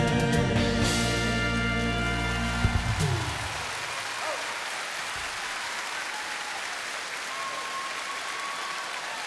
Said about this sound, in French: Oh là là, sous vos applaudissements.